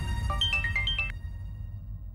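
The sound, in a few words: phone ringtone of an incoming call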